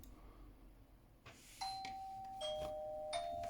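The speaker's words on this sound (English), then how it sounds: "There's one on the doorbell" A doorbell rings somewhere in a house, a quiet electronic chime of several sustained tones in a short stepped sequence, heard over faint room noise.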